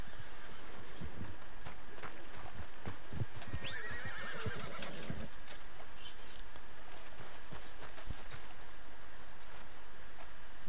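A horse in the video game Red Dead Redemption 2 gives a clear whinny amid a run of clip-clopping hooves, mid-distance, with no one talking during it.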